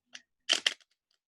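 A few quick, soft riffling and slapping bursts of tarot cards being shuffled, close and quiet, with silence between.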